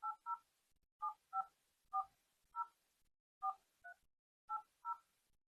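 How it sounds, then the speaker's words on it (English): Phone keypad DTMF tones ring out as a Glo USSD code is dialed, nine short crisp beeps in an uneven rhythm, close and alone with silence between presses. "Then I will dial star 131"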